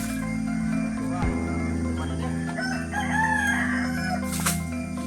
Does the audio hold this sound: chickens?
yes